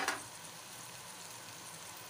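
Spices fry in a pan with tomato and green chillies, starting with a brief loud sizzle and then settling into a soft, steady hiss.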